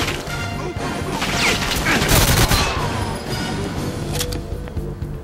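Sustained burst of gunfire from the Wii remake of Goldeneye 007 on the Solar level, dense and loud with crashing impacts throughout, with a voice briefly present.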